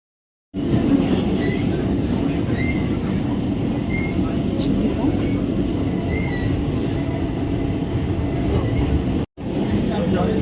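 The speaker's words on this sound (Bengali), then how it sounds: "উঠেই দেখো মেট্রো ট্রেনের ভিতরে হালকা একটু ভিডিও করে নিলাম তোমাদের জন্য।" Steady loud rumble and hum inside a moving metro train, continuous rail noise with faint squeals, ending with a brief cut-out.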